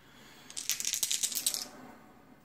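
Dice rattling during a tabletop wargame, a quick burst of bright clattering taps as a die tumbles across the table, close and crisp for about a second, then quiet.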